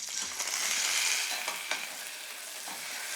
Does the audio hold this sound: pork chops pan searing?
yes